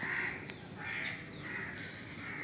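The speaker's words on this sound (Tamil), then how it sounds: "இங்கே காக்காயெல்லாம் வந்து சத்துது" Crows caw in the distance, a few harsh calls over a faint outdoor hiss, with no talking.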